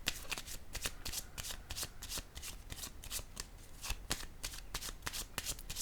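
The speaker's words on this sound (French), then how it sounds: "Je vais déposer une carte ici." Tarot cards shuffled and handled at close range in a steady run of crisp riffling flicks and soft slaps, continuous over the whole stretch with no talking.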